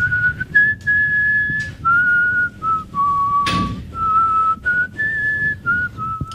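A person whistles the opening of Dvořák's Symphony No. 9, a slow classical melody, clear and close, in sustained notes separated by brief breaths.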